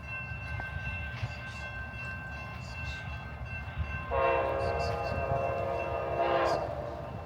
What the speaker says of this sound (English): I think I heard the whisper of a train horn